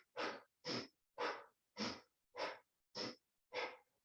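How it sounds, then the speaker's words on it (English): Seven short, evenly spaced breath sips exhaled in a steady rhythm, alternating between nose and mouth during a breathing exercise, close and clear with brief silences between each puff. "little sips, little exhale sips."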